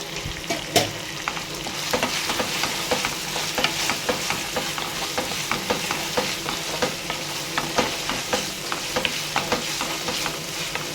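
Onions frying in a pan with ginger garlic paste, a loud continuous sizzle broken by repeated spatula scrapes and stirring clicks, close and steady with no talking.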